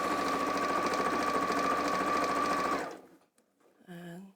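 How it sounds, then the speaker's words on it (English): A sewing machine stitches steadily across fabric, running loud and close with a fast even whirr for nearly three seconds before stopping abruptly, followed by a brief pause and a short burst of speech. "So I'm just going to sew right across there."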